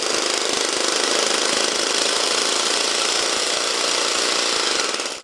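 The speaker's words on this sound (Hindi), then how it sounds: "हैवी ड्रिल्स की मदद से घर के सहन, वॉशरूम और कमरों का फर्श तोड़ा गया" Heavy drills break up the floor of a house's courtyard, washroom and rooms, a loud continuous hammering rattle with rapid regular impacts that stops abruptly at the end.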